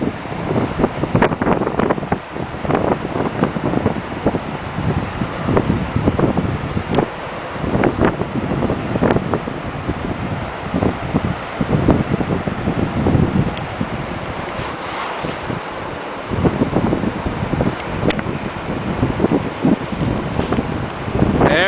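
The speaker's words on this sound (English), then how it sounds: "I like watching the waves." On a coast, strong wind buffets the microphone in loud, irregular gusts, with ocean waves washing faintly beneath the roar for the whole stretch.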